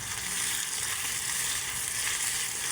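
Sauce cooking down in hot oil until only the oil is left, a loud, steady, close sizzle and crackle of frying that runs without a break and has no talking over it.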